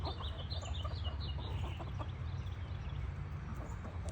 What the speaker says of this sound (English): See my blind chicken?